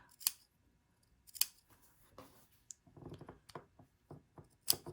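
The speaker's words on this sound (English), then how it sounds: "I'm clipping 2, but not through that stitching line, just to help that turn out really nice" Scissors make a string of sharp, close snips as they clip into the fabric seam allowance at a tight corner of a sewn dress bodice, with irregular pauses between cuts.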